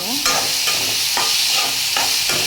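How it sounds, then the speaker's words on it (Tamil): Steady sizzling of tomatoes sautéing in a pan with turmeric and salt for prawn curry, with a few stirring scrapes at regular intervals, close and loud. "அந்த தக்காளியும் போட்டு எல்லாத்தையும் வதக்கிக்கிறோம்"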